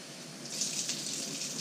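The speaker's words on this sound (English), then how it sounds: "for the dry shrimp, I'm gonna wash it a little bit and soak in water for a few minutes." Tap water runs steadily into a sink while dried shrimp are rinsed, a soft continuous hissing splash with no talking.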